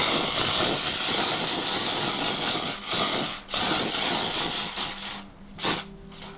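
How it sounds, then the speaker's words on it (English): Garnier Super UV Over Makeup Mist sprays in long, loud hissing bursts close by, then shorter puffs separated by brief pauses. "I'm going to use this SPF. This is the Garnier Super UV Over Makeup Mist."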